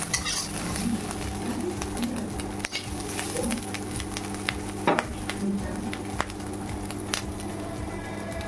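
Beans sizzle and crackle steadily in hot oil in a wok, with scattered stirring scrapes and a faint bird calling in the background.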